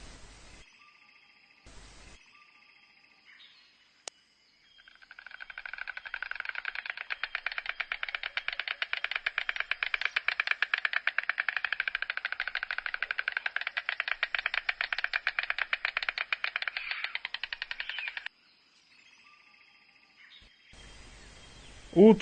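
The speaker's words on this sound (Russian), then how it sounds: "Аист." A stork clatters its bill in a long, rapid rattling burst lasting about thirteen seconds, loud and steady with a dense rhythm, preceded and followed by quieter background sounds.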